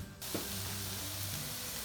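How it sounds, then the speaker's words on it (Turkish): Steady, close sizzling of eggplant frying over high heat in a pan, a continuous hiss with a faint clink near the start. "Yüksek ateşte patlıcanlarımı kavuruyorum."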